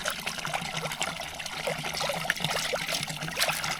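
Water trickles and splashes as it is poured into a cooking pot and swirled around to rinse it, a close, steady dribbling wash with small sloshes and no voices.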